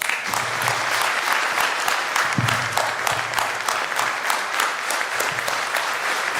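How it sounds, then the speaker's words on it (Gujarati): Steady, dense audience applause fills a devotional satsang gathering as children are honoured, with many hands clapping continuously at close range from start to end. "વીર તાળીઓના નાદથી આ બાળકોને આપણે વધાવી લઈએ"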